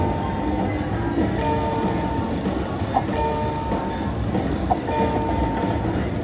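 Train sound effect from a slot machine game, a steady rumbling rail clatter with a couple of short sharp accents, loud and continuous over jingly machine tones.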